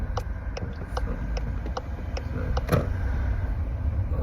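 A car drives along with a steady low road and engine rumble from inside the cabin, punctuated by a regular series of faint ticking clicks and a brief louder knock partway through.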